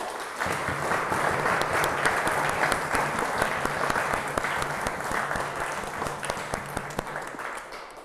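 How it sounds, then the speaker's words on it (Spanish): A church congregation gives warm applause at a gathering on ecological awareness: many hands clap steadily and densely for several seconds, close and lively, before tapering at the end, with faint voices underneath. "a ver un caluroso aplauso por la hermandad"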